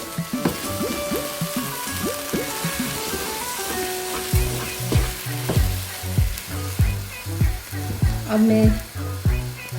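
Mashed potato dessert sizzles and fries in ghee in a pan, a steady crackling hiss with repeated stirring scrapes, loud and close, with a brief voice at the start.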